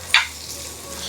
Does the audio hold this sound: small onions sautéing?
yes